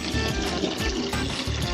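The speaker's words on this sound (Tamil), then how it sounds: "ஓகே, தண்ணி பிடிச்சிக்கலாம்." Tap water running steadily into a vessel in a home kitchen, a continuous near splashing trickle with a faint voice briefly underneath.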